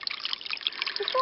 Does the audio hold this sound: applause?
no